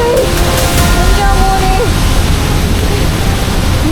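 Loud, continuous rush of flowing water at a monsoon waterfall in Idukki, Kerala, with a broad roaring hiss, close by and unbroken.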